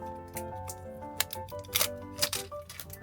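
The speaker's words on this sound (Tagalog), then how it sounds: "let's remove the tape" Tape peeled off small gift packaging for a ring makes a few short, sharp crackling and tearing bursts, close and fairly loud, with no talking.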